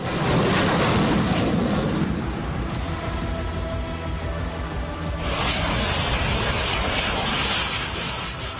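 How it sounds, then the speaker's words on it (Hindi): Indian and American fighter jets, including types such as Sukhoi, Jaguar, Rafale and Tejas, taking off from Kalaikunda airbase in Bengal during a joint air exercise, a loud continuous jet roar that swells and shifts in tone, with no talk. "बंगाल के कलाईकुंडा एयरबेस से जैसे ही लड़ाकू विमानों ने उड़ान भरी"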